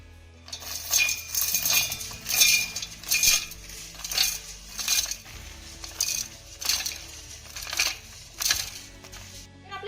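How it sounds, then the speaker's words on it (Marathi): Ingredients are scraped into a mixer jar with repeated metallic clinks and scrapes of a spoon against steel, coming in irregular bursts, close and moderately loud, with no talking. "आपण आता हे मिक्सरच्या भांड्यामध्ये काढून घेऊया"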